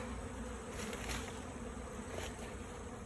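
Dense, steady buzzing of many bees swarming close around toppled, storm-damaged double-deep beehives after a hurricane in West Louisiana, a continuous drone with no voices.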